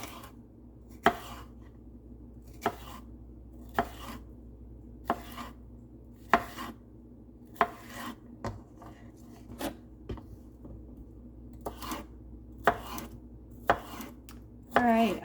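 A knife slices thinly through food on a cutting board, producing a steady series of sharp, close chops spaced roughly a second apart, over faint room hum with no talking, while cooking pan-fried faux steak.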